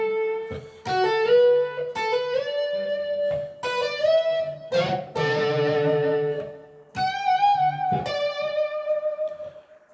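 Electric guitar solo in the style of a song, with expressive bent and sustained lead notes over light accompaniment, played clearly and fairly loud with no voices.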